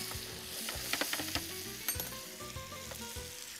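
Chicken frying in a pan with masala, green chilli and onion, a close, continuous sizzle broken by repeated scraping and clinking of a stirring spoon, with no speech.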